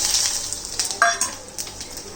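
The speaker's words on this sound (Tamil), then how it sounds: "இப்போ எண்ணெய் காஞ்சிச்சு, இது எல்லாமே கொட்டிக்கலாம்." Garlic, shallots and curry leaves sizzle in hot oil while being stirred, a close, steady crackling hiss with a few brief clinks of a utensil against the pan.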